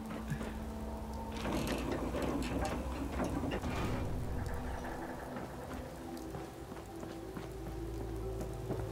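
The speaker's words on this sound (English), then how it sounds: "And it's still raining." Rain falls in the Fallout 4 game world as a soft, continuous patter on surfaces, fairly faint, with some mechanical ticking and clicks mixed in and no talk.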